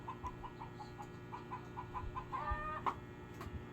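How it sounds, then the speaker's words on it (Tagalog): A chicken clucks in a steady run of short, evenly spaced calls, fairly close and alone, with a louder squawk near the end. "Nipsugod na sa putak ang manok anak."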